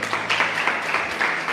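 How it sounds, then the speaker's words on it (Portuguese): A church congregation applauds in a brief burst, moderately loud and steady clapping with a low hum beneath. "você pode aplaudir"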